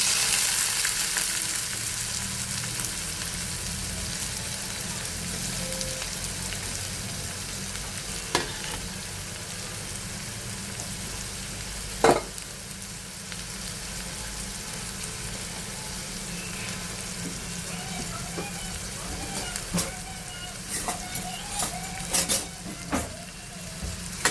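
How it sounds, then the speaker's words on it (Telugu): Chopped onions fry in a pan for mutton kheema, giving a steady, even sizzle with occasional clicks of stirring toward the end and no voices. "ఒకసారి కలుపుకోవాలి మంచి గోల్డెన్ కలర్ వచ్చే వరకు ఫ్రై చేసుకోవాలి మీడియం ఫ్లేమ్లో పెట్టేది"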